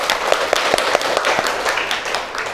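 In a classroom, a small group claps briefly for a student: light, scattered claps close by, with no one speaking over them.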